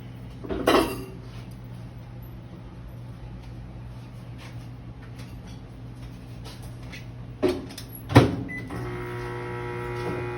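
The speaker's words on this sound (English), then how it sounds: "Y'all can hear my lovely loud microwave back there." A steady low electrical hum of a loud microwave oven running drones throughout, with a couple of sharp clattering knocks of dishes or utensils nearby.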